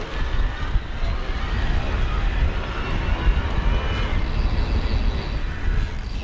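A Bosch e-bike drive motor on a Giant Stance E+ 2 mountain bike hums steadily during riding, its drone partly buried in heavy wind rush and trail rumble that stay loud throughout.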